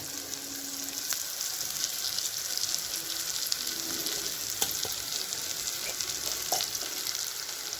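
Poha fries in a pan with a steady, bright sizzle while being stirred and turned, with occasional light scrapes and clinks throughout and no voices.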